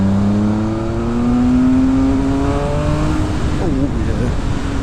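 A 2020 Triumph Speed Triple RS motorcycle engine pulls hard and loud, rising in pitch as it accelerates through the revs, with a steady onrushing drone and wind noise.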